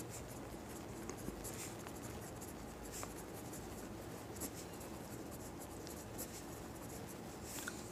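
A pen scratches steadily across paper while a math solution is worked out by hand, a continuous close, soft scribbling with small ticks and strokes and no talk.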